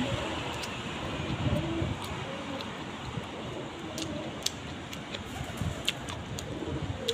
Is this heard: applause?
no